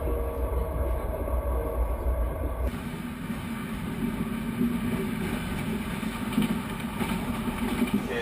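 A loud, steady rumble of a Trans-Siberian train rolling along the rails, a continuous low roar with a shift in tone partway through.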